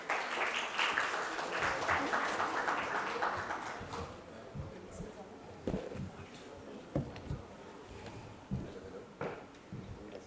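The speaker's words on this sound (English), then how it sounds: "Let's give them all a warm round of applause." A panel audience applauds with steady, full clapping that fades after a few seconds into scattered claps and taps in a conference hall.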